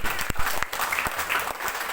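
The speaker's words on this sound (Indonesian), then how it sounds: "Beri tepuk tangan." Clapping from a church congregation during a sermon, a short burst of scattered hand claps with a few sharp louder hits, moderately close and without talk.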